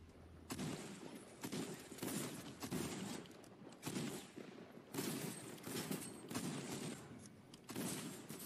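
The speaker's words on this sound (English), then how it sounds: "Took 8 shots to kill an IO guard." Rapid gunfire from a shooter video game fills the scene as a guard is shot, dense loud bursts repeating in quick volleys with brief gaps between them.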